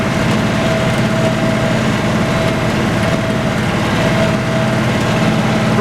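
A tractor engine drones steadily at idle in the woods while hauling oak logs, a loud, even rumble with no breaks.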